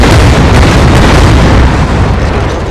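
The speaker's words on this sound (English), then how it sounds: "next time we do mortar strike, it will spawn in different kinds of mortars." Mortar strike explosions in a game under development, heard as a loud, continuous, dense roar of blasts that runs unbroken for the whole stretch with no pauses between impacts.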